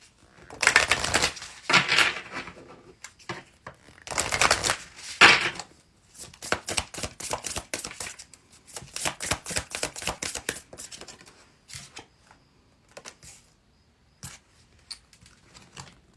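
Tarot cards slapped and slid out of a handled deck, a quick run of crisp flicks and riffling snaps in bursts, close and fairly loud, with no talking.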